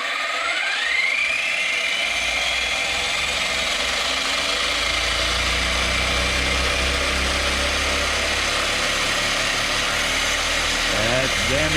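An electric ARRMA Big Rock RC truck fitted with 17mm hubs, RPM arms and Mojave tires whines loudly as it drives, its motor pitch rising and holding near full speed, with someone speaking over it.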